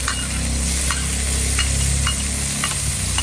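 Tomato and onion sizzle loudly in a pan for squid adobo with camias while a utensil stirs them, scraping in regular strokes over a continuous close frying hiss.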